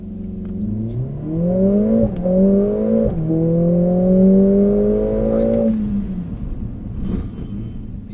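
A Mercedes-AMG 45s on a test track accelerating hard to 70 with rising engine pitch stepping through two quick upshifts, then the engine note falls away as it brakes to a stop, loud and close.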